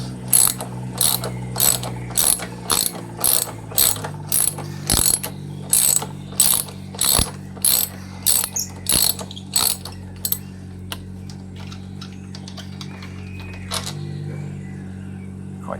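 A ratchet loosening big clamping bolts on the top yoke of a Znen 125 TE motorcycle: about a dozen quick bursts of close, rattling clicks, then quieter handling noises as the work slows.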